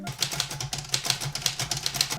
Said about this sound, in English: the clack of a typewriter